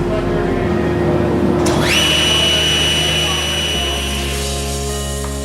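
A power saw runs loud and close through a wood cut while building a Benchcrafted Moxon vise, a continuous whining drone with its pitch shifting as the blade bites, steady throughout without voices.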